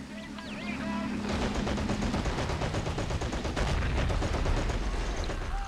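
Machine gun fire in the World War II strategy game Men of War Assault Squad crackles in dense, rapid bursts over constant battle rumble, with a whistling shell and a voice briefly heard early on.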